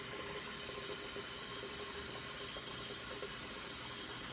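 A kitchen tap runs steadily, filling a pot with water for boiling eggs, a faint continuous hiss and splash with no talk.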